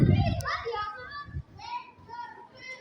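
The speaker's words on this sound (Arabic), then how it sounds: "كل الولاد بالحارة عم بيلعبوا." Children play outdoors in a sunny residential neighborhood, their high-pitched shouts and chatter carrying from a short distance. A nearby thump or rustle sounds at the start.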